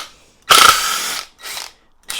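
A Ryobi RID18BL-0 cordless impact driver unscrews a screw: a loud rattling hammer burst of about three-quarters of a second, a shorter softer burst, then a third starting at the end, with near silence between them.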